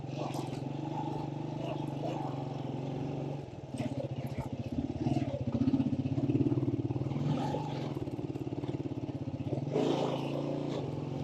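A motorcycle engine strains hard on a steep mountain route toward Shandur Top, a loud labouring drone that dips briefly, then climbs and pulses heavily.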